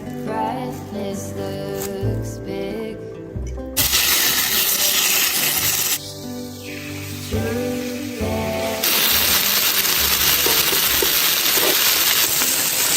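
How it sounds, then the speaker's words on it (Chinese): Meat skewers sizzle and spit in a hot pan, the hiss growing louder in bursts, with background music playing throughout. "把肉串揣上，上锅开始煎。"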